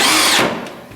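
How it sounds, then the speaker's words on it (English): Power drill driving screws into the wood of a chicken coop: a loud, close, high whirring burst that winds down and cuts off within a second. "just go ahead and drive these screws in"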